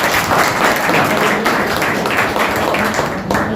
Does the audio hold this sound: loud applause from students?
yes